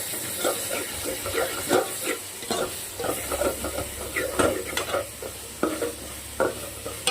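Food sautéing in a pan while it is stirred briskly, a continuous sizzle and hiss under repeated scraping, knocking strokes of a spoon, close and fairly loud.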